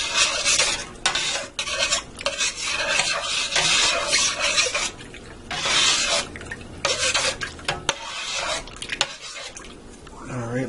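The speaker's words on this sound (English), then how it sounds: "I'll stir this up quick to make sure I get all that dissolved in there" A spoon stirs beef barley soup in a pressure cooker pot, giving repeated scraping and clinking strokes against the metal in uneven bursts, fairly close, with brief pauses between rounds of stirring.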